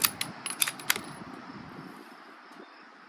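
A riflescope turret on a Marlin 782 is turned, producing a quick series of about five crisp, faint metallic clicks in the first second, followed by quiet room tone.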